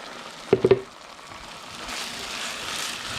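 Chicken feed crumbles dropped into hot fat in a pan with the heat turned off, a brief clatter of pieces landing followed by a soft, steady sizzle that slowly builds and holds.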